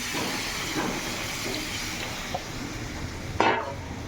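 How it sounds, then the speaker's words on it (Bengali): Hot water goes into a pan of sautéed chicken, a steady close hiss and sizzle that flares into a sharp steaming burst near the end. "আর এদিকে আমি গরম জল করে রেখেছি। জলটাকে দিয়ে দিলাম।"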